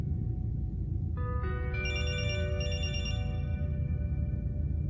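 A phone rings with a short electronic ringtone, a few rising tones stacking up before fading, heard fairly faint over a steady low background rumble.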